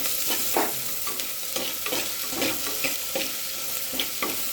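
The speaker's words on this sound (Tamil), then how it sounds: "இந்த ஆனியன் வந்து நல்லா ப்ரௌன் கலர்ல மாறுற வரைக்கும் நல்லா வதக்கிடுங்க" Small onions, garlic, slit green chillies and salt sautéing in a clay pot, loud crackling sizzle with frequent stirring scrapes every half second or so, close and continuous.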